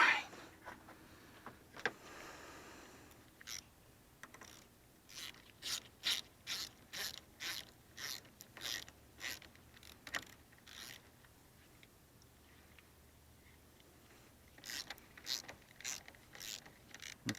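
A ratchet tightens the bolts on lead battery terminals, quick bursts of clicking pawl strokes repeated in close, steady runs with short pauses between them.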